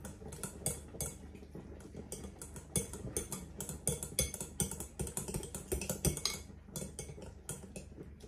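Raspberry jam being stirred into cream in a bowl, a quick run of close, light clinks and scrapes of utensil against the dish, fairly soft and without talk.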